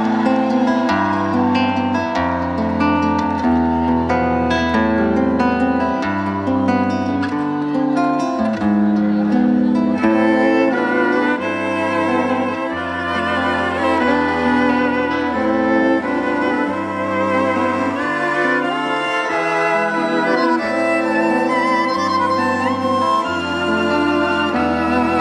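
Argentine folk music plays continuously, a full ensemble with strummed rhythmic chords, bass and melodic lines in a lively, steady pulse, with no talking over it.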